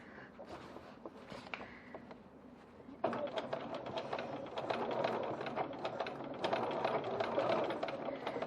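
A sewing machine top stitches a seam along a foam phone pocket of a bowler bag, starting with a soft quiet whir and then running faster in a steady, close mechanical chatter.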